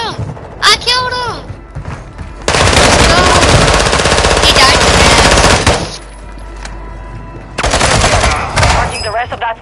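Automatic gunfire in Warzone 2.0, long loud sustained bursts of rapid shots filling several seconds, broken by a brief pause, with game voice chatter and effects around it.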